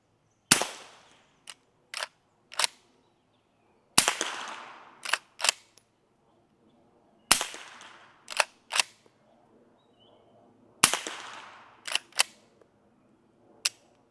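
A Henry Supreme rifle chambered in 300 Blackout is fired into dirt at 100 yards, with four bursts of sharp, loud cracks spaced seconds apart, each followed by quicker shots or metallic clicks, and no talk.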